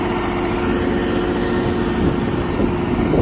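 A New Holland 5620 CRDI tractor engine runs steadily in power mode, a continuous loud low rumble holding constant throughout with no pauses and no voices.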